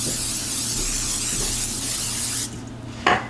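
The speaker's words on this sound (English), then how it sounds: "Now let's go ahead and spray our pan." A can of cooking spray coats a pan with a loud, steady hiss for about two and a half seconds, then cuts off, followed by a brief knock.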